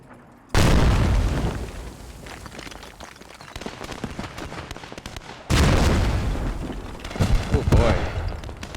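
Artillery shells landing in a console military video game, two heavy booming blasts several seconds apart, each trailing into long rumbling debris and crackle, loud and close.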